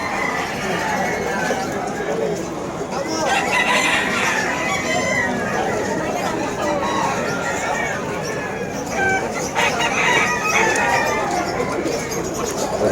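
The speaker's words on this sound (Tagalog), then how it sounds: "Ito yung mga manok ah." Many chickens cluck and a rooster crows amid a busy, noisy pet market in Malabon; people talk faintly under the constant flock sounds.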